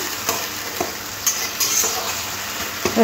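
Tomatoes fry with salt and ground paste in a pan, giving a steady soft sizzle broken by a few short scraping stirs.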